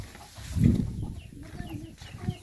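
An Indian game (Asil) rooster weighing about three to four kilos gives short, low clucks close by, with faint background noise and no speech.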